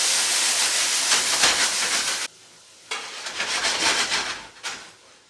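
Shrimp searing in a very hot pan for hibachi, a loud broad sizzle that cuts out briefly, then returns in bursts as the pieces are tossed.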